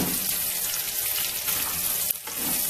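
Garlic frying in a pan for spicy adobo, a dense, loud, continuous sizzle that holds steady throughout, with a brief stir or clink just past the two-second mark and no talking.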